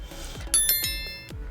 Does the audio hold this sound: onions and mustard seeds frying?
no